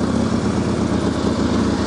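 A 2014 Harley-Davidson Street Glide Special in vivid black runs with a loud, close, continuous engine rumble and a fast throbbing beat, with no voices.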